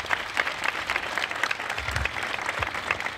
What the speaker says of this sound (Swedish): jag tycker att hon kan få en applåd också